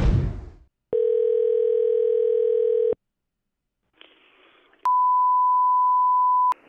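A telephone call begins with a short burst of noise, then a steady two-second dial tone, a brief hiss and a long, loud, pure beep tone.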